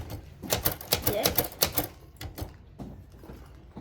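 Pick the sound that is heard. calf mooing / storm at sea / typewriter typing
typewriter typing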